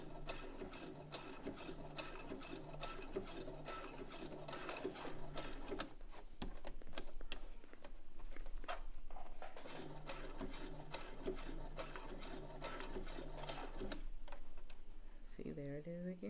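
A sewing machine stitches the collar of a dress in fast, even ticking runs, pausing briefly and starting again, close and steady with someone speaking quietly at moments.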